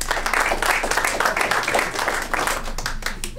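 Audience applause at a stand-up comedy show, a loud burst of clapping with distinct individual claps that fades toward the end.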